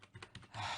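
Typing on a computer keyboard, a quick run of several close, light key clicks followed by a denser patter of keystrokes.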